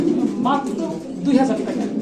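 A black pouter pigeon coos at close range in a few low, throaty rolls, with someone talking over it and other birds murmuring faintly behind.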